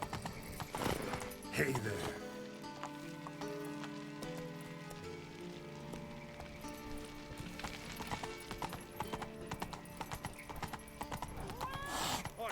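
Roach's hooves clip-clop in a steady trot across The Witcher 3's world, with a neigh early on, fairly quiet under game music, and a short spoken greeting in the clip.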